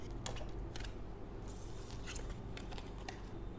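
Tarot cards are pulled from a deck with several short, faint, crisp flicks and slides over a low steady background hum.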